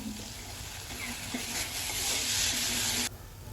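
Cumin, mustard seeds and onion sizzle steadily in a little hot oil for a street-style chaat, a bright, close frying hiss that swells louder and then cuts off abruptly near the end.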